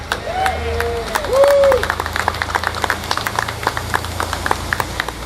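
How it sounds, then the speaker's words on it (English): A crowd claps at an Atlanta mansion preservation announcement, a steady patter of many hands throughout while a voice speaks briefly near the start. "Can we get a hand clap for that?"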